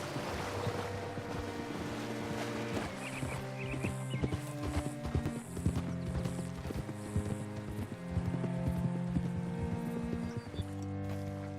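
Horse hooves clip-clop in Red Dead Redemption 2, a regular trotting beat running under prominent sustained game music throughout.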